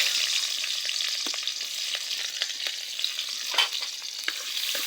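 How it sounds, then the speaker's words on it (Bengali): Sliced green chillies and onion hit hot oil for mung dal, a steady close sizzle with scattered small crackles and pops throughout, no voices. "তেল দিয়ে দিচ্ছি, কাঁচামরিচ ফালি আর পেঁয়াজ দিয়ে দিচ্ছি।"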